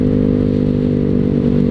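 A Honda Vario scooter fitted with a new roadrace-style exhaust rides along, its low, steady engine drone humming loudly and close throughout with a rough, buzzing texture.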